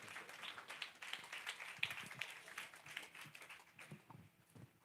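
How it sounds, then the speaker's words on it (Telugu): A church audience at a fasting prayer service claps to welcome the pastor, a faint, scattered patter of many hands at some distance that thins out toward the end. "మరోసారి చప్పట్లు కొడుతూ ఆహ్వానం తెలియజేద్దాం."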